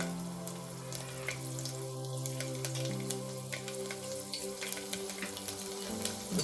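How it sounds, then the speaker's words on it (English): Garlic cloves sautéing in ghee with poppy seed, cumin, clove and cinnamon in a pan, a soft continuous sizzle with scattered pops and crackles, quiet and close. "Just saute it for a minute or two so that the garlic changes its color to a light golden brown."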